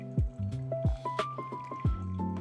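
Hot water poured in even circles over a flat bed of pour-over coffee grounds, with a bubbling, gurgling trickle and repeated splashy drips under a rising pitch as the brewer fills, close and fairly quiet.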